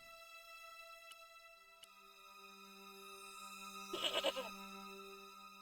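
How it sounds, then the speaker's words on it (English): A goat gives one short, quavering bleat in the video game Broken Sword. It is quiet and sits over a soft, steady game background hum. "What is there a goat noise for?"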